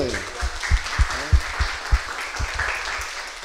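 An audience at a university council candidates' presentation at the UNED Monteverde centre claps for the candidates, a soft, scattered patter of hands with a few louder individual claps, fairly quiet and distant.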